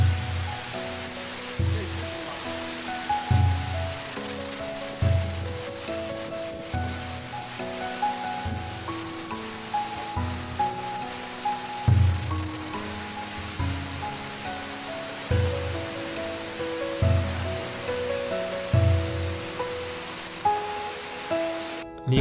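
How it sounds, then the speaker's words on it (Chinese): A waterfall pours into a deep blue pool in a rocky gorge at Nanxi River, Wenzhou. Its broad, steady roar continues throughout, partly masked by rhythmic background music. "头顶的瀑布叫含羞瀑"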